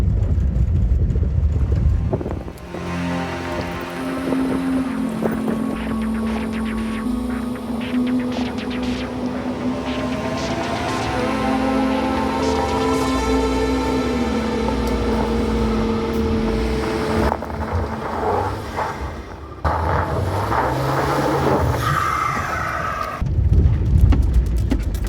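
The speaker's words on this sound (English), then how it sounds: "we are already doing a little bit of off-roading" A lifted Volvo XC70 driving off-road on a rough track, steady engine and tyre rumble with wind buffeting at the microphone, rattling and bumping throughout.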